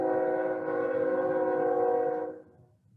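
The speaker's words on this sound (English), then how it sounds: "We've got a train coming by." A train rolls past in the distance, its horn sounding as a long, steady, sustained tone over a low rumble before it fades away near the end, with no talk over it.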